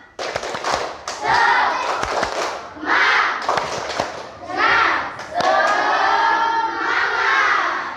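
A school class claps together in a rhythmic group cheer, bursts of sharp hand claps alternating with children's shouted chanting in strong, evenly spaced phrases.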